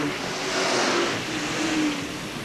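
Sportsman race cars in an 8-lap heat at Hales Corners Speedway in 1989 give a steady, rising and falling engine roar around the track, moderately loud, with a commentator talking over it.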